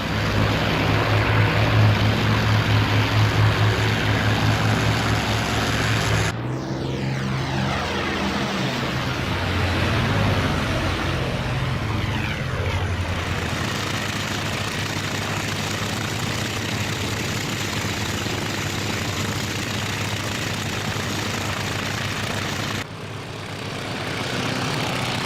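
A Mitsubishi A6M2 Zero's aircraft engine in the flight sim IL-2 1946 runs loud and steady, a throbbing propeller drone that shifts pitch partway through and continues without voices.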